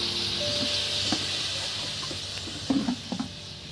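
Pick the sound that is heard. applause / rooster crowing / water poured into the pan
water poured into the pan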